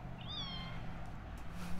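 A single short meow from a shelter kitten rises and falls over a low background rumble. It sounds faint and somewhat distant, with no one talking.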